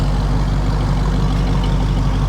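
A 1970 Chevy Nova with a fuel-injected LT1 engine and dual exhaust idles steadily nearby, a deep, even low rumble held for the whole stretch without talk.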